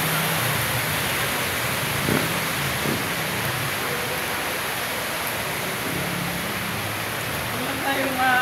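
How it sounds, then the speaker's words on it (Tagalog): Heavy rain pours in a steady, dense hiss over a flooding street, with faint vehicle rumbles and a voice talking underneath. "Saglit lang ang ulan, baha na naman."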